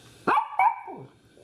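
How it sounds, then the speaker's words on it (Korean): A house dog barks at the door toward a noise outside, two loud, close barks in quick succession, the second trailing off into a short whine. "혹시 문 밖에서 뭔 소리가 났나?"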